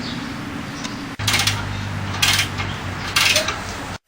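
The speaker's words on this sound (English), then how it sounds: "If you have a breaker bar, use it on the bottom" A breaker bar works the bottom nut of a front shock on a 2003 Nissan Xterra, a loud metallic ratcheting grind in a few bursts followed by a sharp clank, with no talking.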